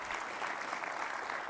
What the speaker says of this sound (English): You should clap